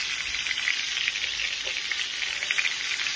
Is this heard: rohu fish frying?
yes